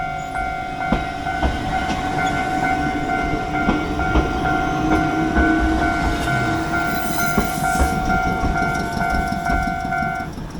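A historic electric railway train in Japan, running at about 25 mph, rolls past close by with a continuous rumble, rhythmic wheel clicks over the rails, and a sustained tonal whine riding on top.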